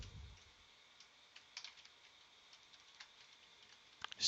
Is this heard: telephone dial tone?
no